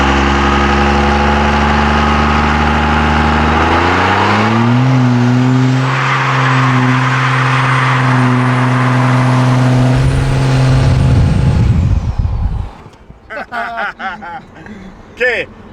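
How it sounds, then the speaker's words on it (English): A diesel truck fitted with new injectors and delivery valves, still suffering turbo spool lag, revs loudly into a burnout, its engine note climbing and holding before tires squeal and the roar cuts off into scattered noise near the end. "now I think we're gonna be able to do some serious burnouts"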